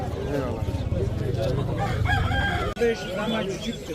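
Roosters crow and chickens cluck at a busy bird market in Adana, close and loud, with people talking throughout among the poultry calls.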